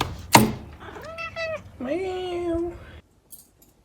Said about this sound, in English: The neighboring cat wants to come in.